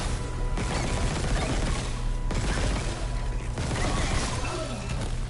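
Pulse rifle fire in a video game, rapid bursts of crackling energy shots layered with mechanical clatter, separated by short sharp impacts that recur every second or so, steady and loud throughout.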